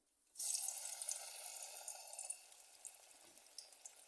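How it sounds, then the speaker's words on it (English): Oyster mushrooms dropped into a deep pot holding about two cups of oil for vegan frying: a sudden loud burst of sizzling that settles into steady, bubbling crackle close by, with no speech. "After this, it's ready to fry. Time to fry."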